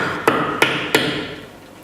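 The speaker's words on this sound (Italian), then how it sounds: "Tutti i materiali dalle rocce e marmi si tagliano con questi due attrezzi, che è martellina e tagliolo" Mosaic maker's hammer striking stone on a hardie to cut small marble and rock tesserae in Otranto: three sharp, ringing metallic taps spaced about a third of a second apart, close and clear, each with a short decaying ring.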